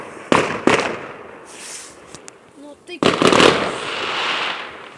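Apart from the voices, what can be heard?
neighbour's fireworks exploding behind the house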